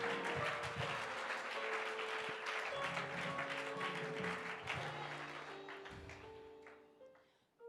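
Worshippers in a church service cheer and applaud the Lord, a dense wash of clapping and voices that holds steady, then thins and fades near the end.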